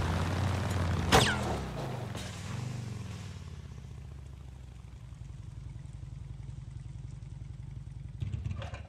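Motorcycle and scooter engines of a roaming patrol in the video game Days Gone, a loud passing roar with clatter early on, then settling into a steady low engine drone that continues to the end.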